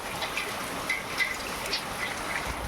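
Heavy rain pours down in a constant broadband wash, with scattered louder splashes and drips standing out now and then.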